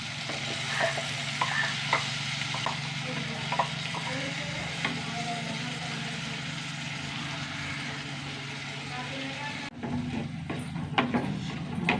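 Ground spice paste sizzles and is stirred into softened eggplant in a hot pan, a steady close frying hiss with scraping stir clicks throughout and a brief dip before the sizzle resumes.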